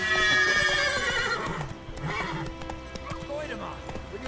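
A horse in The Witcher 3 gallops with rapid clip-clopping hooves and lets out a loud neigh, layered over game music and speech.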